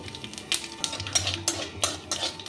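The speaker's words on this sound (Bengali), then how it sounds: "ফোড়নটা ভাজা হয়ে গেছে" Whole spices (bay leaf, cloves, cardamom, cinnamon and cumin) temper in hot oil for a pointed gourd dish, giving a soft crackling sizzle broken by several quick stirring scrapes and clinks of a utensil against the pan.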